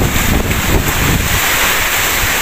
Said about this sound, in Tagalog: Grabe yung buong lakas ng ulan mga guys. Saka ng hangin.